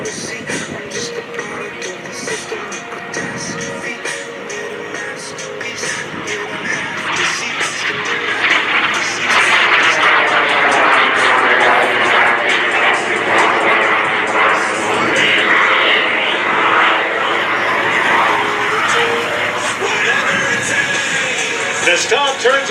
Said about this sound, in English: as Tom climbs the aircraft high and to the right